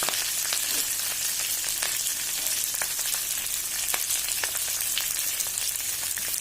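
Tempering for tuvar dal with drumstick leaves spattering in hot oil, a loud, continuous hiss dotted with sharp pops and crackles close by.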